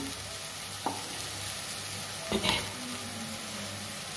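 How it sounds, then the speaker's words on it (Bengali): Tamarind water poured into a hot pan with bay leaf and dried red chillies sizzles steadily, with a couple of sharp clinks of a utensil against the pan. "তেঁতুল জলটা আমি দিয়ে দিচ্ছি"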